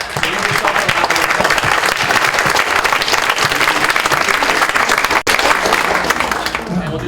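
A lecture audience on forbidden archeology breaks into loud, dense applause that holds steady for several seconds close to the microphone.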